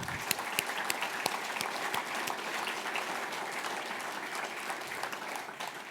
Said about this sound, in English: Let's give our panel a huge round of applause.